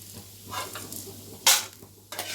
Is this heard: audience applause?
no